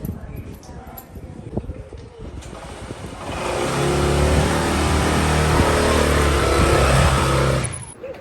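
A delivery motorbike in Portugal starts and revs loudly for several seconds after a stretch of nearby talk, its engine holding a strong, steady roar before cutting off abruptly.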